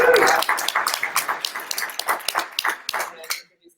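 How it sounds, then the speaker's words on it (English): Audience applause at a sarcoma medical conference, a burst of clapping that starts loud and busy, then thins into scattered claps before fading out to silence. "So just want to give another round of applause."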